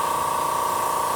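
A paint spray gun sprays paint in a continuous, even hiss with a steady tone, close and loud through the whole short burst, with no voices.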